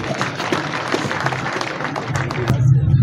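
Applause from an audience at a community event for a Moundang cultural centre under construction in Kaélé, Cameroon, steady broadband clapping lasting the whole stretch and swelling slightly toward the end, with a low hum underneath.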